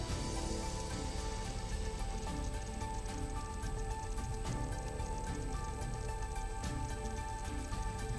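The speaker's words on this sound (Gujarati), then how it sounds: "સુરત જિલ્લાના અનેક તાલુકાઓમાં ધોધમાર વરસાદ ખાબક્યો" Heavy monsoon rain pours steadily across Surat district in Gujarat, a dense, continuous hiss of drops drumming on surfaces with no pauses, loud and close throughout, with no voices.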